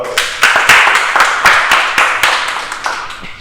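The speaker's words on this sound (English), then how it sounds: "Give me a round of applause." An indoor audience at a storytelling masterclass claps together in a loose, sparse applause, with sharp individual claps standing out over a few seconds.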